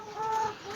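A chicken gives a short, close cluck or call, a single brief sound in a quiet setting with no talking.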